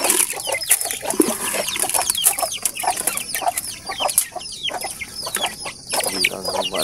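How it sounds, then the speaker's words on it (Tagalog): Native chickens cluck and peep steadily in a backyard flock, with overlapping chirps and clucks close by and no speech. "Ito nating sisiw."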